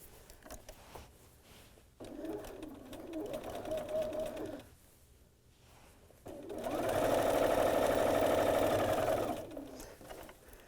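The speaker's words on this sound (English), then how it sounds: "now you will start sewing right from the edge of the quilt" A sewing machine stitches quilt binding from the edge of the quilt in two bursts, a shorter quieter run and then a louder, faster whirring run, with a quiet pause between them and a little handling noise.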